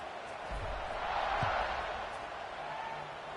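A large football stadium crowd at a Clemson versus Florida State game roars in a steady broad wash of cheering, loud and distant-sounding, swelling slightly mid-way with no clear voice on top.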